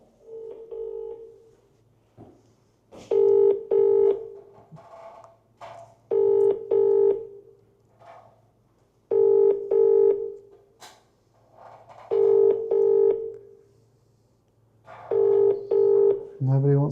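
An unanswered phone call rings out before reaching voicemail, a repeating double ringback tone heard five times at even intervals over a faint steady hum.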